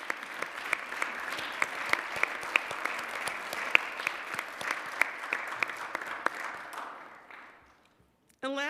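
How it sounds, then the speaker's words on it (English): Sustained applause fills a council meeting chamber for about seven seconds, dense and steady, then fades away into near silence before a brief burst of other sound at the end. "Let's give her a round of applause."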